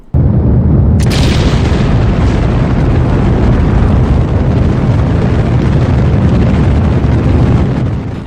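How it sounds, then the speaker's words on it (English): A rocket engine roar in Kerbal Space Program, a loud, dense rumbling blast that kicks in with a sharp burst after a second and then holds steady at full power. "For starters, the engine sounds are not the ones I want."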